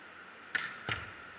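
A volleyball is struck hard twice during attack-spike arm-speed drills, each hit a sharp, loud slap about a third of a second apart, with quiet room tone in between.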